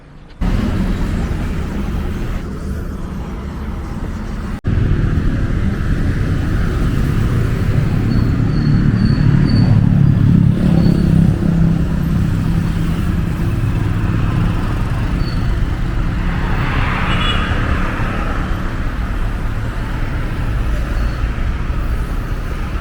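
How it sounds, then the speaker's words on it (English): A traffic jam on the streets of Nairobi city produces a loud, continuous roar of idling and creeping engines, with buses and motorcycles mixed in close by and a steady road rumble throughout. "Now I want to cross that traffic jam."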